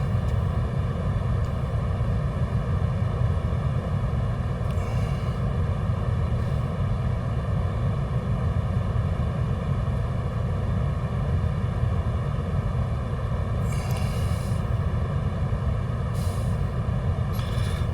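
A Voyager aircraft on final approach to runway 7 at Rio Gallegos, Argentina, heard as a steady, loud engine drone from inside that holds even throughout, with no talk.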